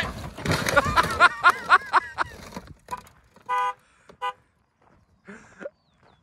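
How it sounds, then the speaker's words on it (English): Ford Escape EcoBoost car horn sounding on its own after a crash, a series of short honks and toots at moderate distance amid scattered background noise and brief voices. "It was honking by itself."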